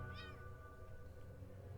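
A cat meows once in the video game Impostor Factory, a clear rising-falling cry near the start, over a steady droning background of game music and ambience.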